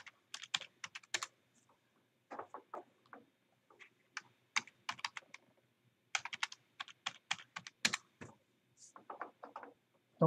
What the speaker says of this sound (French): Vous allez taper votre mot de passe.